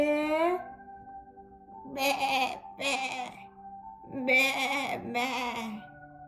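A voice imitates a sheep with four bleating calls in two pairs, each a wavering baa, indoors and fairly close.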